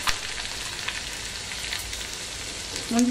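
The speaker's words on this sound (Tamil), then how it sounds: "முந்திரி இன்னும் ஃப்ரை ஆகலை, ஃப்ரை ஆகிட்டுருக்கு." Cashews, green chili, ginger and curry leaves frying in oil in a pan, a steady close hiss and crackle of sizzling that carries through without pause.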